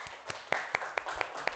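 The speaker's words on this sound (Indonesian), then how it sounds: "Tepuk tangan dulu untuk kalian semua." Students in a class clap in rhythm, about seven sharp, evenly spaced claps, fairly faint and with no voices over them.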